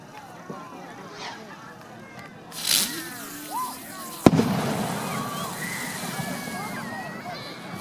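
Fireworks burst over the water in a few scattered booms and a sharp louder crack near the middle, followed by crackling sparkle, heard at a distance with people talking.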